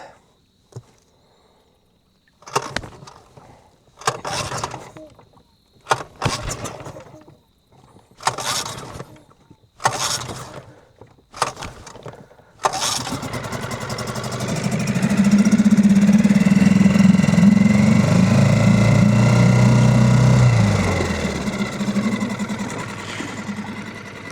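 A Suzuki DF6A outboard boat motor is hot-started: a series of pull-cord yanks, each a short sputtering burst, then the engine catches and settles into a steady, loud, close idle.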